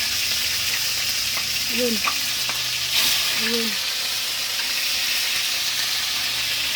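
Food fries in very hot oil with a loud, steady sizzle and crackle throughout, while a voice speaks briefly over it.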